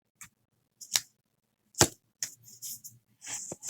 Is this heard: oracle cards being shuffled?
yes